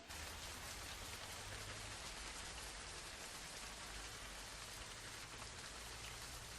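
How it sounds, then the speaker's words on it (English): Heavy rain pours down on an archaeological dig site, a dense, steady hiss of drops striking the ground that stays constant throughout without any voices. "Heavy rainfall brings a halt to the digging"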